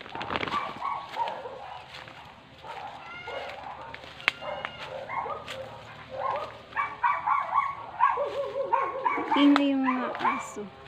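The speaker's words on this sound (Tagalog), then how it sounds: "Ingay yung mga aso." Several dogs bark repeatedly nearby, sharp overlapping barks and yips in irregular bursts, with a voice speaking at times.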